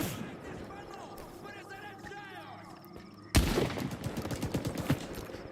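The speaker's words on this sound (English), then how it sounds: "where the fuck am I getting shot from still?" Rapid bursts of gunfire erupt loudly in a video game shooter, sharp cracks clustering in quick volleys after a quieter stretch of background game sound and a high steady tone.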